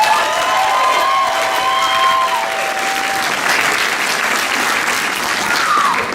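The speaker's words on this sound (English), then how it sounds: "Can we get another round of applause?" Sustained, dense applause from a pageant audience fills the hall for over six seconds, loud and steady, with cheers and whistles rising above the clapping early on.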